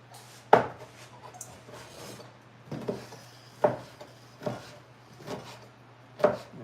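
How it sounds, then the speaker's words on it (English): A knife chops bacon on a cutting board in a home kitchen, six distinct sharp chops at uneven intervals over a steady low hum, with no voices. "start chopping our bacon"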